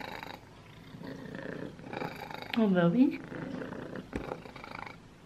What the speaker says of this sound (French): c'est mon chat qui ronronne.